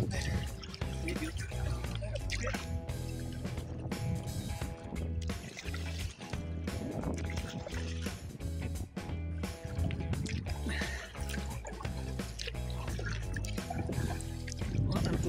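A canoe on a solo trip along a tropical beach, paddled with repeated splashing strokes and dripping water that sound close and fairly loud throughout.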